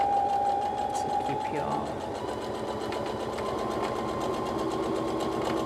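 A sewing machine stitches a straight seam with a fast, even mechanical whir that runs steadily throughout, while someone speaks softly over it.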